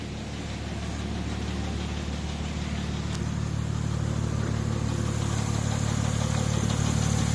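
A Porsche 996 Turbo engine, just repaired for an intake air leak, idles smoothly and evenly up close with a steady low drone and continuous mechanical hiss, no talking.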